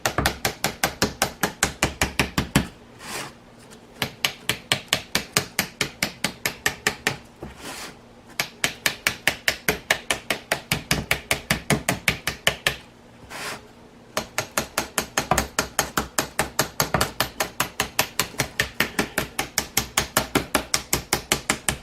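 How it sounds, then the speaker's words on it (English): A spoon taps rapidly against a cookie mold in quick, even bursts of sharp clicks lasting several seconds each, separated by short pauses, close and loud. "Then you can take your spoon and do some taps"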